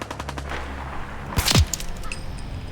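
Gunfire from a fight in the Fallout 4 video game, a rapid burst of shots followed by a sharp crack and whoosh, with faint scattered bangs after, no talking over it.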